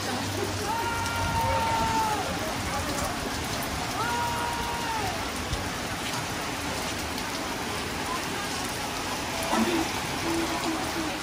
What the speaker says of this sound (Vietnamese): mưa quá lớn